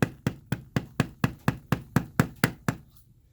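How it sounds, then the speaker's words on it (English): Mallet striking a metal beveler tool on tooled leather, about eleven evenly spaced sharp taps in a steady rhythm, close and fairly quiet, with no talking. "You can see I'm just hammering and walking it."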